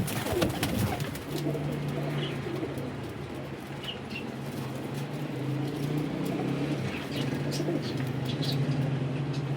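A flock of about eighteen pigeons coos steadily at moderate distance, with soft rustling and occasional faint chirps over a low background hum.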